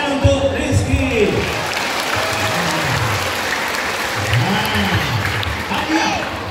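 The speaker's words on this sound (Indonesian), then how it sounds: "Tepuk tangan untuk Rizky." Loud applause from a crowd at a school cultural evening, many hands clapping steadily while a voice speaks through it and faint cheering rises in the room.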